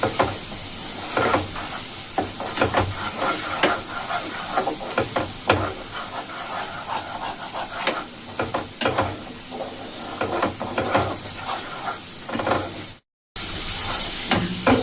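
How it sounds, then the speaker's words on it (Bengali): Already-fried spices for egg curry are sautéed in a pan over medium-high flame, giving a continuous close sizzle broken by frequent scraping and clacking of a spatula, with a brief dropout near the end. "মোটামুটি ধরুন হাই ফ্লেমে কি মিডিয়াম ফ্লেমে 2 মিনিট মতো কষিয়ে নিতে হবে"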